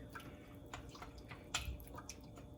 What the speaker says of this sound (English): when you rinse them like this, it'll make them less likely to clump and stick together after